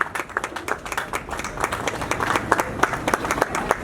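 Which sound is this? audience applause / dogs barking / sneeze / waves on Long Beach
audience applause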